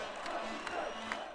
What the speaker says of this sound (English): The crowd demanded Vučić's resignation, shouting Serbia has risen.